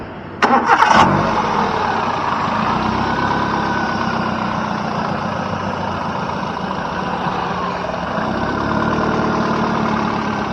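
A Hyundai i10's engine cranks and starts with a short burst, then settles into a steady, close idle that hums on without a break.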